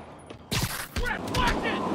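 Enemy gunfire in a Spider-Man video game, a sudden loud volley of shots and impacts breaking out after a quiet moment, continuing in rough bursts with voices and action sounds mixed in.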